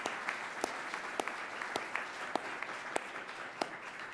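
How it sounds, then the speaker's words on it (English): Sparse, scattered clapping from a modest audience at a club luncheon talk on public art, individual claps ringing out at irregular intervals over a quiet room, fairly faint and distant. "We can applaud for that,"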